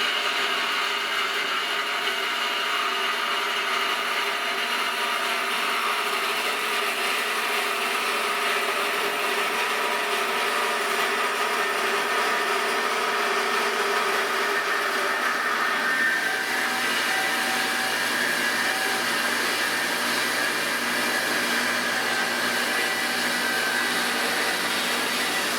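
A power saw cuts through steel stock, a loud continuous machine whine that holds steady for the whole stretch, with the pitch shifting about midway as the blade bites deeper.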